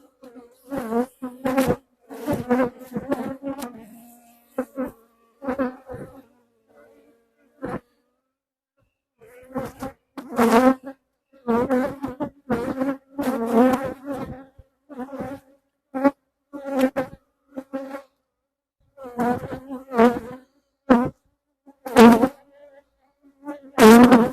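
Honeybees buzz in loud, close bursts and intermittent passes during an October inspection of an open hive, with short silent gaps between the flybys.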